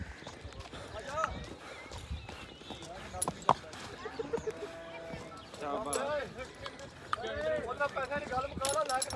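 Hooves of a ridden horse clip-clop in an uneven rhythm of close, sharp knocks, while people talk over the hoofbeats throughout.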